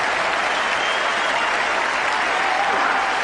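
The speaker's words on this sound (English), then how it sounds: "all the Kiwis at the ground are out of their seats at the moment, cheering the New Zealand captain off the ground." A cricket stadium crowd at the 1992 World Cup semifinal between Pakistan and New Zealand gives a sustained ovation, dense steady applause and cheering that holds loud and even throughout, with no voice standing out.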